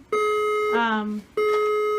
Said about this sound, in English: They have an alarm in the room that goes off, and apparently it's a fire alarm